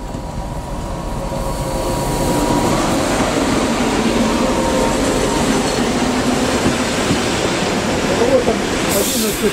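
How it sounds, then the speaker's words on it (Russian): A train pulls into a station at night, a loud continuous rumble and rolling wheel noise that builds over the first seconds and holds steady close by, with no clear talk over it. "Вот подъезжает поезд."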